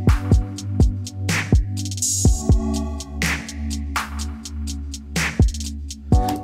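Trap beat with 808 kicks and booming bass, a second hi-hat layered in with quick rolls of rapid ticking between hits, played loud and rhythmic with no talking.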